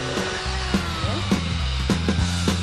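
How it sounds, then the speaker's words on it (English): A power drill fitted with a 3/4-inch bit bores holes through the cap of a plastic rain barrel, whining steadily with several short bursts and pitch shifts as the bit bites, fairly loud and close. "He starts by drilling a hole using the 3/4-inch bit into the cap of the barrel"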